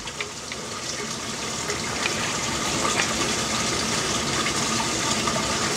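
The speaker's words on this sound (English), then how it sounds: "the water comes up through the rock rubble" Water gushes steadily up through rock rubble in a homemade aquarium sump, a constant close splashing and bubbling rush that grows slightly louder.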